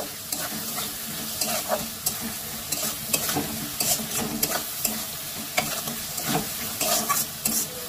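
Green chillies, garlic and onions fry in a pan, a close, constant sizzle punctuated by repeated scraping strokes of a spatula stirring them around.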